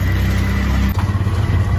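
An auto rickshaw engine runs close and loud, its low motor note shifting as the vehicle pulls away, with no talk.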